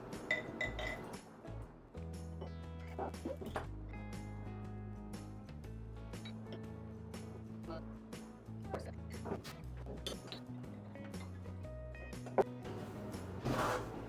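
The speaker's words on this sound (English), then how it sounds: "So I'm gonna add the same amount of beer to each glass." Beer poured into several glasses for an orange spice amber ale tasting, with soft liquid splashes and occasional bright glass clinks, quiet and close with no voices.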